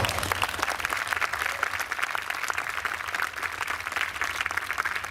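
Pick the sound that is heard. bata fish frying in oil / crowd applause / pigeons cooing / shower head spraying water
crowd applause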